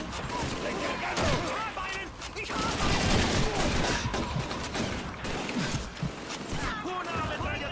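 MG-42 machine gun fire in the PC game Call of Duty 2, dense bursts of gunfire and battle noise filling the whole stretch, with shouted voices mixed in.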